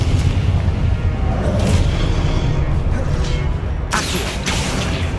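A blasting spell in Hogwarts Legacy, a sustained booming rumble from the game's loud soundtrack with a sharp bright burst near the end.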